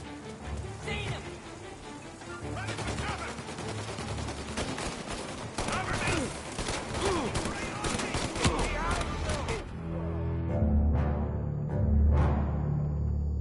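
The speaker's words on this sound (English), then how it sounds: "Was someone actually shooting behind me?" Gunfire in Mafia Definitive Edition, sustained crackling bursts of shots for several seconds, with a voice heard over them, ending in a few heavier isolated booms.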